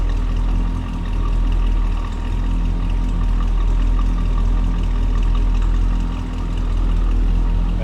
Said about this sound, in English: A little rumble coming out of that small block Chev.